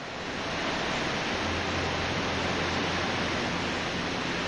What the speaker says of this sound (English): The gentle water noise is much better, much nicer than the waterfall noises.